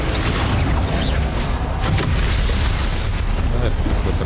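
The Confringo blasting spell explodes in a Hogwarts Legacy fight, a loud rumbling boom running through a dense wall of game sound with voices over it.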